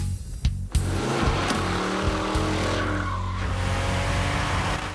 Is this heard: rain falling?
no